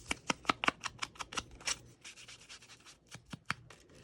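Ink pad rubbed onto small paper craft pieces, a series of quick, close scratchy swipes in an uneven rhythm, some rapid and clustered, others spaced out, with no speech.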